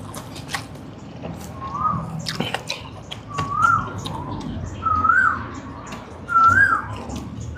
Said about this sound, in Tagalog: Diyan na naman yung mga kaibigan nating ibon. Gusto makikain.